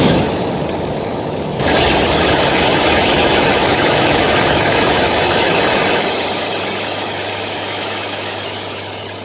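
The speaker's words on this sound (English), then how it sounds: "Automated vehicles are routing drums to their zones now." Automated vehicles routing drums in a mattress factory: a loud, steady engine drone and rumble, close and continuous, shifting slightly in tone partway through, with no talking.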